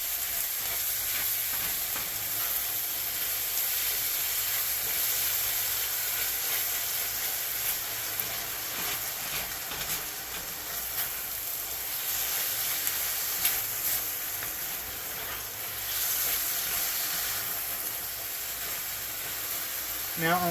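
A mixture sizzles steadily in a pan while it is stirred for Salisbury steak, a constant close frying hiss with occasional soft scrapes, lasting throughout.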